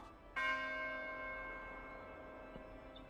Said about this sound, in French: On a fait sonner la cloche une fois.